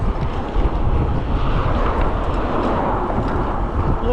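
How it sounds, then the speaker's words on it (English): Steady, loud wind buffeting the microphone on a bike trail loop along Florida's upper Pinellas Trail, a continuous low rumbling roar that fills the whole stretch with no pauses. "A little windy now."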